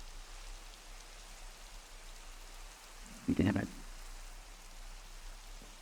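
Steady rain pattering throughout in Minecraft, an even wash of falling drops with one short louder burst of another sound near the middle.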